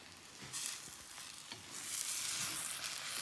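Cantonese-style fried rice with onions and soy sizzles in a pan, a steady hiss that swells louder toward the end, with faint stirring scrapes and no talking.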